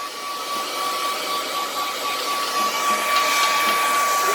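A hair dryer blows on fresh paint near a strip of masking tape, a steady, loud whooshing whine with a high tonal hum that holds even throughout.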